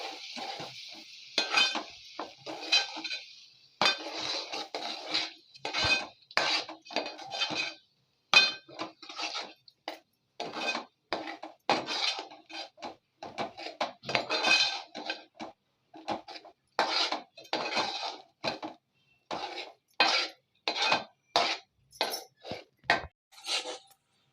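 Ground masala paste is sautéed in a pan over a low gas flame, heard as quick, bright metallic clinks and scrapes of a spatula against the pan in rhythmic bursts separated by short pauses.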